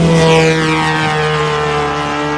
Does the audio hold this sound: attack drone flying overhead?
yes